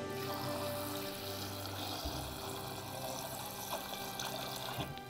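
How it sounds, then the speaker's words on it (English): Water poured from a tap or jug into a cooking pot holding carrots and butternut squash, a steady close trickle and splash lasting several seconds with no talking. "We're going to put a little water."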